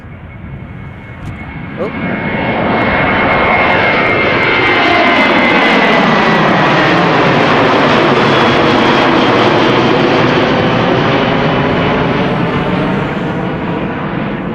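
A jet airliner's engines roar loudly at Schiphol Airport, a broad sustained rumble and whine that swells and holds as the aircraft passes close by, with a brief spoken exclamation near the start.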